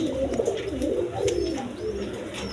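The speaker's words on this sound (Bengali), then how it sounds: "ডিম বাচ্চা সহ প্রচুর কবুতর আছে" Pigeons at a bird market kept with eggs and chicks coo in a low, continuous, rolling chorus close by, with faint chirps above.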